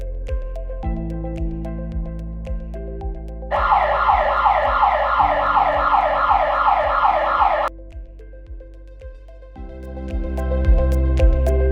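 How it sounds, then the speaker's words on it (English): A home security camera's loud electronic siren wails in rapid repeating cycles for several seconds, starting and stopping abruptly amid steady low background noise. "Smart siren alarm."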